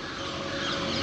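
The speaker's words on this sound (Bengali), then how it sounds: "অনেক পাখির ডাক শুনতে পাচ্ছি এখানে।" Birds call at the Pobitora Wildlife Sanctuary in Assam, a dense outdoor mix of overlapping chirps and clucks heard at moderate distance against steady ambient noise.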